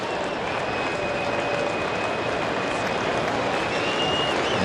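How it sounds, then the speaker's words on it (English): A sellout baseball crowd in a big stadium applauds a departing pitcher with a continuous, dense roar of clapping and cheering that holds steady and loud throughout. "this sellout crowd will stand in appreciation"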